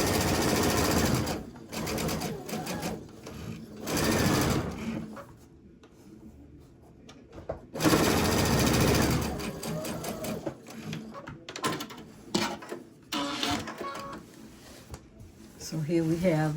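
A sewing machine runs in bursts of rapid stitching, stopping and starting, with pauses of quieter room sound between runs.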